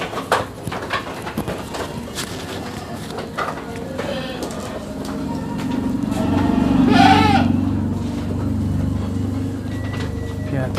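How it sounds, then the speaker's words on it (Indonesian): A Rambon breed goat bleats with a wavering call in the second half, among other livestock sounds on a farm while a person talks nearby. "Ini ada jenis kambing rambunnya juga nih teman-teman."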